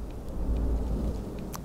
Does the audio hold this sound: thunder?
yes